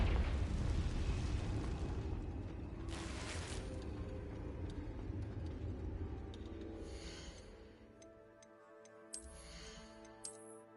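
Confringo fire spell in Hogwarts Legacy on PS5 bursts into a loud, roaring explosive rumble that slowly fades, followed by scattered quieter pops and chiming game effects near the end.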